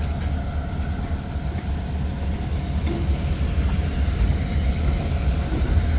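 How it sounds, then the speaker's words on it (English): A freight train locomotive sitting at idle beside gondola cars, giving a loud, steady low diesel rumble that continues unbroken with no talking. "That train's like at an idle right now."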